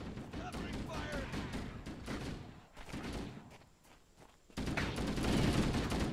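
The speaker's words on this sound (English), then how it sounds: "What are they shooting at?" Gunfire rattles through a firefight in the video game Halo: Combat Evolved, with dense, rapid bursts of shots that thin out into a brief lull before a louder, sustained volley resumes near the end.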